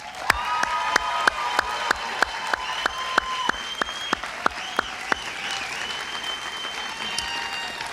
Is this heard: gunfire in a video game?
no